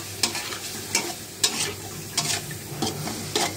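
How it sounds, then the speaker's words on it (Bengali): Prawns frying in a wok: a steady oily sizzle broken by about six rhythmic scraping stirs of the spatula, close and moderately loud with no voices. "এই যে চিংড়ি মাছটাকে ভেজে নিই।"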